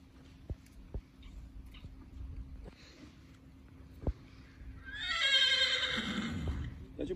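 A horse neighs loudly in a long, descending whinny near the end, after several sharp taps and soft background noise from a horse collection.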